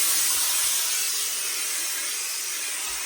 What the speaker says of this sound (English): So I'm now going to put some steam on it first before I do anything else